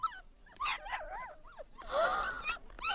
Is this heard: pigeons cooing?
no